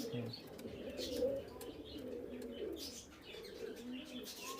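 Golden pigeons at a pigeon farm coo in soft, repeated low calls, with occasional chirps and some faint background voices.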